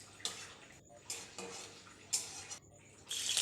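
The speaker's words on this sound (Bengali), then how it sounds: "এদিকে আমি কিছুটা কাঁচা বাদাম তেলের মধ্যে দিয়ে একটু নেড়ে চেড়ে" Raw peanuts stirred in hot oil in a pan, with bursts of bright scraping and rattling between brief quiet gaps, ending in a louder steady sizzle, close and without speech.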